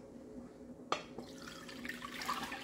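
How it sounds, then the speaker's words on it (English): Coconut milk being poured into a cooking pot on a stove for a salt mackerel rundown, a soft close liquid splash and trickle starting abruptly after a brief knock and running steadily to the end, with no talk. "So I'm going to pour this in the pot for it to boil down to oil"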